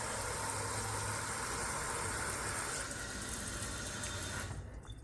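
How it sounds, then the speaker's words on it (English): Tap water runs steadily into a pot being filled for pasta, a continuous close hiss that softens and drops away near the end. "Let's fill up some water."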